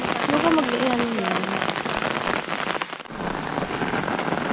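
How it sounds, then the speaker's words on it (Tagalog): Heavy rain pours steadily in a dense, loud hiss on surfaces in a rural province, continuous throughout, with a brief shift in texture partway and faint voices beneath. "Nakakalakas ng ulan guys."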